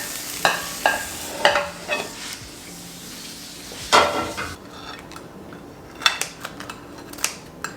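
Spring onions and grated cheese stirred in a pan, with a soft sizzle under a series of sharp scraping stirs and clicks spread through the stretch, no voices.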